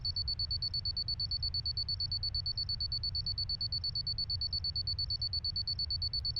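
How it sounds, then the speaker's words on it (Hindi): An alarm clock rings, apparently through a phone, as a constant high electronic tone with a rapid, even pulsing rhythm that holds steady at moderate loudness with no talking. "अलार्म क्लॉक की आवाज फोन में?"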